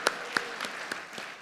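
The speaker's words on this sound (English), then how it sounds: "Please, a round of applause for them" At a World Trade Centers Association general assembly, scattered hand claps from the audience greet the panelists, a few sharp separate claps over a soft, thinning patter of applause.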